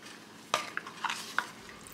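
Ghanaian beans stew scooped from a pot with a spoon: a few soft scraping clinks and wet dabs, close and quiet against a faint background hiss.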